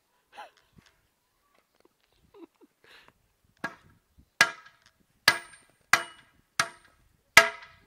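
A hammer strikes concrete in a series of sharp, separate blows that grow louder, spaced roughly every half second to a second near the end, after a few quieter knocks and faint voices.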